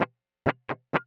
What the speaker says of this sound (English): That's the muted sound.